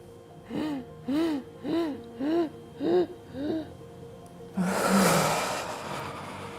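Six slow, even breaths taken close to the microphone during a guided breathing exercise for anxiety, each with a soft voiced sigh-like tone, followed by a longer, louder airy exhale.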